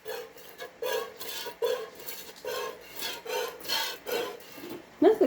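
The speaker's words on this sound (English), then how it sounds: "Nothing quite like the sound of the milk hitting your bucket." A goat is hand-milked into a small bucket, giving repeated rhythmic rasping squirts of milk at a steady pace, close and moderately loud, with no talking.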